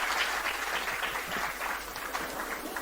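An audience breaks into applause at a motivational talk, a dense, even wash of clapping hands that holds at moderate distance for the whole moment, with no voices.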